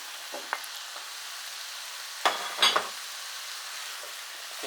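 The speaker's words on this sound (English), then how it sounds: "we'll just let this sizzle now for about 5 minutes" Vegetables and potatoes sizzle and crackle steadily in a hot pot for Irish lamb stew, with a few sharper clinks and stirring scrapes partway through; no one speaks.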